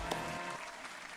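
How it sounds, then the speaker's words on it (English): Brief round of applause for a YouTube show's 900-subscriber milestone, a short burst of clapping that fades quickly. "let's give everybody a round of applause"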